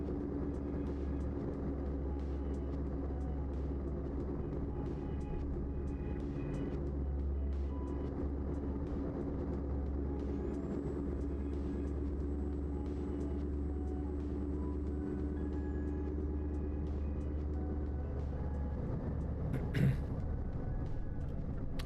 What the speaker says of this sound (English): This one sounds like it come from an engine that's got a lot of miles on it.